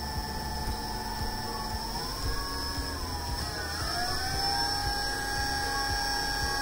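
A 48/60V 1000W BLDC motor kit for an e-bike or e-rickshaw speeds up, its steady electric whine climbing in pitch midway, then holding high over a constant background hum.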